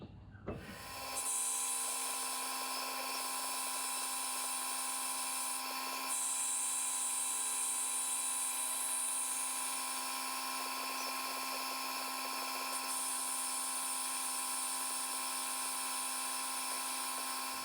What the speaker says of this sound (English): I'll be using the battery drill to drive the compound.